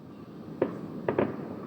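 Fireworks set off outdoors at a New Year celebration, with one sharp pop followed by two closer bangs in quick succession, distant and moderately loud against a steady background hum.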